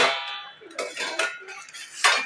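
A metal lid lifted off a cooking pot of potato curry, giving a few clinking, scraping knocks with a sharper clang near the end, close and fairly loud with no talk.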